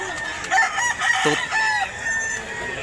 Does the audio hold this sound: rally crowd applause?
no